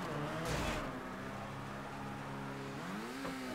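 A car in the video game GTA V accelerates at full speed during a race, a steady mid-pitched engine drone that climbs in pitch near the end, fairly faint under game ambience.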